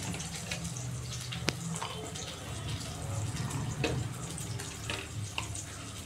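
A kitchen tap runs steadily while water is added for grinding a paste of garlic, green chilli, ginger and onion, a soft continuous splash with faint clinks and no talk.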